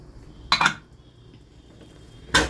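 Two sharp metallic clinks, close by, as a small metal whistle weight is set onto a pressure cooker lid, with quiet room noise between them.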